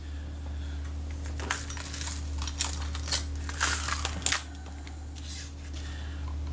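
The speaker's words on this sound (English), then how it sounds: "My neighbour's got some truck parked up against the fence here," A parked truck idles near a fence, producing a steady low drone in the background, while faint clicks and handling noises from close work on a Kodak Retina IIIc camera sit on top.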